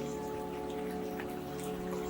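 Steady rain falls on a roofless, war-damaged apartment house in Kharkiv, a continuous broadband patter with scattered drips, close and even throughout with no voices.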